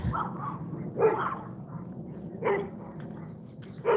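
A Doberman barks at a distance outdoors, three separate sharp barks spaced roughly a second and a half apart over a low background hum.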